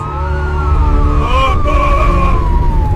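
Wailing sirens from a convoy of police and army vehicles on a highway, several overlapping sweeping tones rising and falling together over a low rumble of traffic, fairly close and loud.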